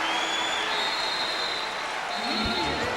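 Basketball crowd at Boston College during a 2001 game against UConn, a continuous loud wash of cheering and applause with a brief deeper voice or shout near the end.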